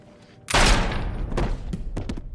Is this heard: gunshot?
yes